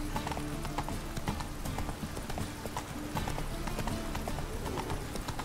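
Horse hooves clip-clop steadily as a rider travels on horseback through a rainy town in The Witcher 3: Wild Hunt, a moderately loud rhythmic trot with faint background ambience.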